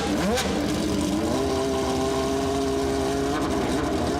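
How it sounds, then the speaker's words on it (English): A Ferrari F50's 4.7-liter 65-degree V12, derived from a Formula 1 engine, revs loudly and close, its pitch sweeping up sharply then holding a steady high sustained drone. "The mad Italians at Maranello had a bold idea of taking the 65-degree V12 from Alain Prost's F1 car"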